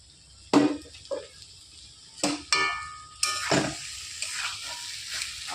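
Fish oil chorchori, a Bengali curry of fish oil and roe, stirred in a pan: several sharp spatula scrapes and knocks against the metal over a soft sizzle, close and intermittent, with no talk.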